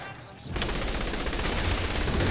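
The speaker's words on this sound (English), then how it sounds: "What was that? Electric grenade." An electric grenade goes off in Saints Row: The Third: after a quiet moment, a loud, dense burst of crackling noise starts and holds steady to the end.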